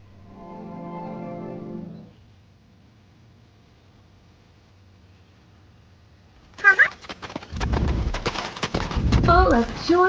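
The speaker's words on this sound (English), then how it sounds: "they all boarded their horse cart to start a journey to their new home" A horse cart setting off, with a dense burst of clip-clopping hooves and rattling wheels rising loud and close after a quiet stretch, while a voice talks earlier and briefly over the hoof noise.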